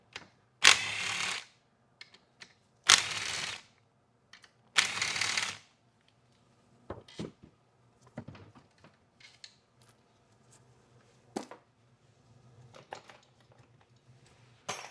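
Impact gun removing transmission support bolts on an RE5R01A five-speed automatic, three loud close bursts of hammering followed by scattered metallic clinks and handling noises.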